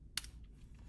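A web address being typed on a computer keyboard, one sharp close key click followed by a few fainter taps, very brief and quiet.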